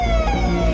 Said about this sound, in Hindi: पुलिस की गाड़ियों के हूटर बजते रहे